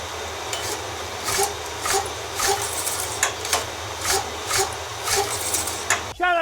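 A generator that has stood unused for a year is cranked over and over without starting, giving a steady train of rasping, churning strokes roughly twice a second, close and fairly loud, ending in a brief higher whirr.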